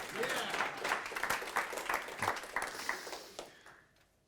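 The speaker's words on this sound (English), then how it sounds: "If you have an applause, that's the moment." An audience at a professional speaking event in the Netherlands applauds a guest, distinct claps in a fairly sparse, moderately loud burst that tapers off after about four seconds.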